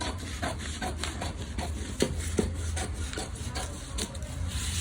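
Scissors cut a paper pattern for a size 40–48 katori blouse, giving a steady run of soft, rhythmic rasping snips close by, with no talking.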